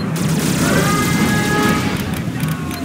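A missile launch and explosions in Command & Conquer Generals Zero Hour, Shockwave skirmish, form a steady, loud rumbling roar of booms and battle noise throughout, with no clear pauses.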